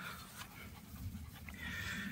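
A German Shorthaired Pointer pants quietly close by, soft rhythmic breaths against a low background hum.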